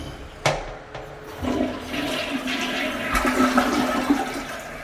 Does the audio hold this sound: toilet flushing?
yes